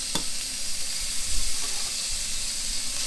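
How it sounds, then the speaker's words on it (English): Bacon sizzles and hisses in a hot pan on a boat's galley stove, a steady frying crackle that holds close and even for a few seconds with one sharp clink near the start. "I'm gonna go ahead and put the bacon in."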